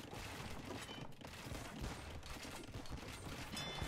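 Cannon fire pounding a castle in a medieval strategy game, a dense run of overlapping booms and cracks rolling on continuously at moderate loudness, with no voice over it.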